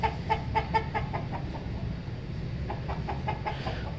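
A hen clucks in quick, repeated bursts, pauses briefly, then clucks again nearby.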